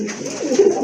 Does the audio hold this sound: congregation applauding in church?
no